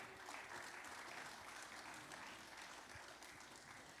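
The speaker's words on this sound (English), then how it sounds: "give another round of applause for group 2." Steady audience applause at a church White Sunday children's service as a group of kids takes the stage, a broad even patter of clapping sustained throughout at moderate distance.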